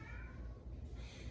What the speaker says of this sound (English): I apologize for any noise that you hear. The cat is really disgruntled.